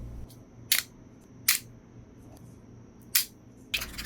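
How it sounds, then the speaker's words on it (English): A Rust-Oleum artist spray paint can's cap is worked, giving four sharp, separate plastic clicks and snaps spaced through a quiet background with a low hum. "Listen to this very satisfying cap release noise."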